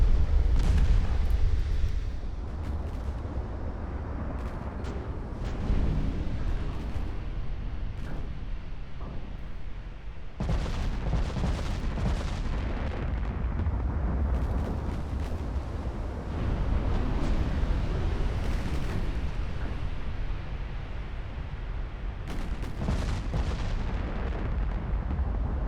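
Naval secondary guns fire in the warship game Ultimate Admiral Dreadnoughts, a dense, continuous roar of heavy booming salvos and explosions, loud and close, with sharper bursts standing out around the first and later seconds.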